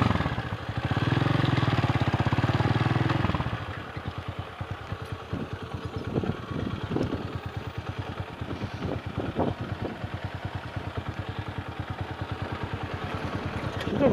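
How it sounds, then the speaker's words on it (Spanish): A TC 200 motorcycle revs loudly on a sandy road, then drops to an uneven, sputtering low idle with rapid irregular putters and occasional pops, close to the mic. "Siento el motor como que muy flojo."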